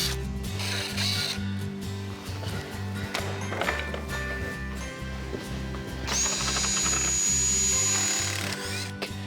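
A power drill backs drywall screws out of porch balusters on a 100-year-old cottage, with repeated close whirring bursts, ratcheting clicks and a longer high-pitched spin near the end, no talking.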